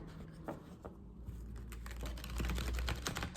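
Small oracle cards being shuffled by hand, a quiet run of soft rapid riffling and papery ticks that continues steadily at close range with no talk.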